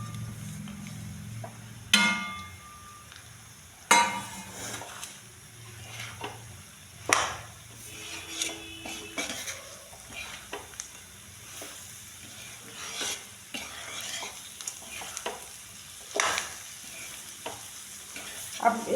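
A desi ladoo mixture frying in homemade desi ghee, a steady close sizzle with repeated stirring and scraping knocks and occasional light clinks across the whole stretch.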